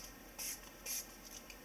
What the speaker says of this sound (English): I'm going to sage with my sage and cedar spray